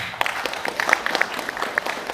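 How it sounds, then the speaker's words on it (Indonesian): Audience applause at a university public lecture with the Governor of Bali, a steady patter of many hands clapping at moderate level, fairly close, with no speech over it. "Jadi Bapak Ibu sekalian tepuk tangan untuk beliau."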